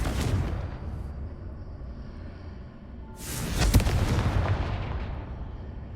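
A Confringo fire spell explodes in the Hogwarts Legacy video game, giving a heavy rumbling blast that fades, then a second sharp fiery explosion with a crackling burst and a long decaying roar.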